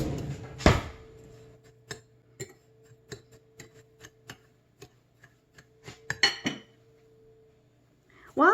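A utensil clinks and taps against a bowl while ingredients for Scotch eggs are mixed. Crisp strikes come in a steady, ticking rhythm, close and fairly quiet, with a louder knock near the start and a voice at the end.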